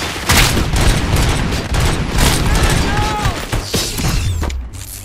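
Rapid bursts of gunfire and booms fill the RoboCop: Rogue City video game scene, dense and loud with mechanical clatter, while voices speak over the shooting.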